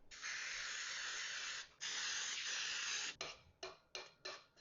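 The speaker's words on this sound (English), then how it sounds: "we're just going to spray it down" Cooking spray hisses onto a cupcake pan, first as a long steady spray with a short break, then as four quick separate bursts, close and clear.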